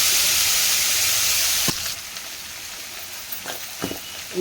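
Green chilies hit hot oil with fried eggplant and cucumber pieces, a strong hiss that drops sharply partway through to a softer sizzle, with a few utensil taps following.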